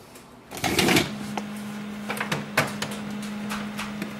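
An HP LaserJet Pro M118-series laser printer switching back on after a paper jam, with clicks and clunks of its mechanism followed by a steady mechanical hum that runs to the end, close and alone.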